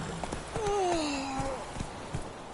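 Roach, a horse in The Witcher game, trotting with a quick, regular clip-clop of hooves close by, while a voice speaks briefly over the steps.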